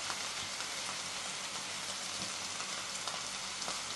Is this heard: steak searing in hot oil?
yes